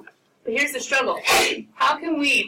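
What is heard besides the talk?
sneeze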